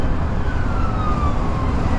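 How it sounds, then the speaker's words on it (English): A distant emergency vehicle siren wails and slowly falls in pitch over loud, steady traffic rumble near a tunnel. "I can hear sirens."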